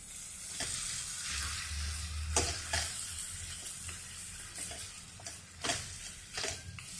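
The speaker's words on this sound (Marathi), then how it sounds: "मटकी 1 मिनिट आपण परतून घेऊ व्यवस्थित, म्हणजे मसाले आपण घातलेले ते पण छान परततील." Moth beans tossed with spices in a hot pan for Puneri misal give a steady close sizzle and frying crackle, with occasional scraping stir strokes breaking through the continuous hiss.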